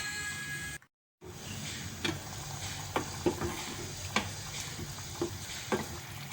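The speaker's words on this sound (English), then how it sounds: "Cover it and let it simmer for about 1 hour or so until the sauce has thickened." Lasagne meat sauce simmering in a covered pan: a faint, steady hiss with soft, scattered pops and ticks from bubbles breaking at irregular intervals, with a brief dropout near the start.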